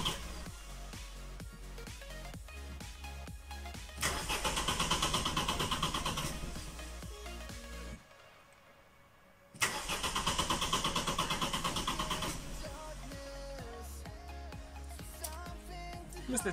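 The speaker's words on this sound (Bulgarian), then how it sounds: "За целта просто стартираме двигателя." An Opel Vectra B engine turns over and starts in a garage, then idles steadily close by, with a roughly two-second pause and a restart that settles back into a smooth idle.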